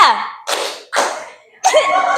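A few sharp claps from a school class in a short counted pattern, separated by brief pauses, fairly loud and close.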